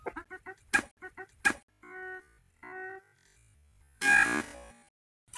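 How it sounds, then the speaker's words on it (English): Backyard chickens being given radishes give out a few close clucks and short honking calls, with several brief sharp bursts and quiet gaps between them. "So I'm going to take these over and feed them to the chickens."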